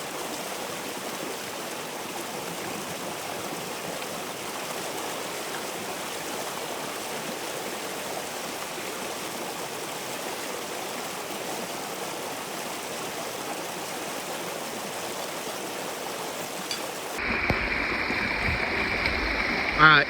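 A North Carolina waterfall and stream pour with a steady, dense rush of flowing water that stays even throughout, then shifts abruptly near the end as a closer, harsher handling noise takes over.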